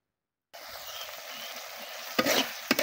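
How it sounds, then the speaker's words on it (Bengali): Bottle gourd peel mash with shrimp sizzles in a pan after a brief silence, with a steady frying hiss and two sharp spatula scrapes near the end as it is stirred. "ভালো করে ভুনা করে নিতে হবে।"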